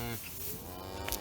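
A newborn calf bellows in a loud, drawn-out moo close to the microphone, with a cattle herd around it on a farm.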